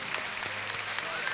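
Congregation applauding during a church service, a full, continuous clatter of many hands filling the room, with faint voices underneath.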